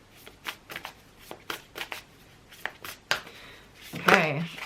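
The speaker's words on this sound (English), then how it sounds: "we're gonna keep shuffling" Oracle cards are shuffled by hand in repeated quick riffling bursts, close and crisp, with a louder flurry at the end.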